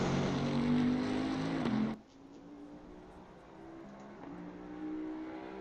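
A Bentley GT3 endurance racer sweeps through Rivazza at Imola during qualifying, engine loud and close at first with a steady harmonic whine, then abruptly dropping to a quieter, more distant drone as it passes away.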